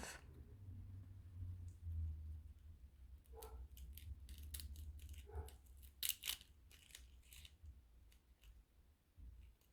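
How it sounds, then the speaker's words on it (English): Scissors snipping the ends off acrylic nails, a few sharp crisp cuts scattered over a quiet background with soft handling rustle and a low hum. "So we just need to go ahead and trim the ends off."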